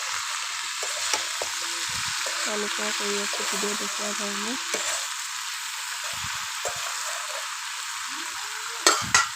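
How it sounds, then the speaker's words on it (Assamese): Soybeans, pumpkin and potato fry in a pan with little oil, giving a steady close sizzle and hiss throughout, with occasional stirring scrapes and a person talking over it. "এনেকৈ কিছু সময় ভাজি থাকিম মই।"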